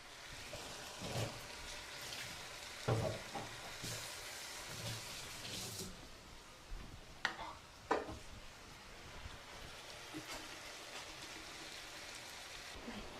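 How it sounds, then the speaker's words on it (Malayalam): Water with ginger boiling in a pot in a home kitchen early in the morning, a faint, steady bubbling hiss with a few soft pops and splashes scattered through it. "ഇഞ്ചി തിളക്കട്ടെ തിളക്കട്ടെ"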